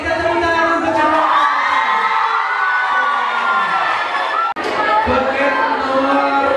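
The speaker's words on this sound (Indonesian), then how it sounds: "kita tepuk tangan untuk jawab." Students at a school student-council candidate debate cheer and clap loudly as a crowd, with shouts and whoops over dense chatter, a brief break near the end before the noisy applause resumes.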